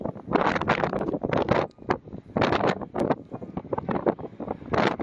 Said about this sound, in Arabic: بشكل متقطع مع هبوب الرياح، طبعا بتبقى محملة بالأتربة والرمال